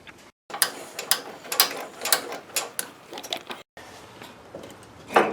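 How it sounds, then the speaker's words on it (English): Bolts being worked loose from the upper control arm of a Dodge Dakota, a run of quick metallic ratcheting clicks and clanks in short irregular bursts, close and moderately loud with brief pauses. "we'll go ahead and remove the bolts on each side of the"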